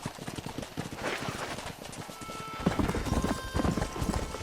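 Horse hooves clip-clop in a steady galloping rhythm in the Western game Red Dead Redemption on PS3, close and continuous with a faint whinny mixed in.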